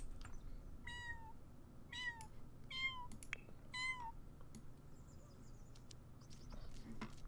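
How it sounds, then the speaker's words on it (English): A small kitten meows in The Sims 4 life-simulation game, a series of four or five short high mews spaced about a second apart over a steady low background hum, fairly faint. "Our kitty's so teeny tiny."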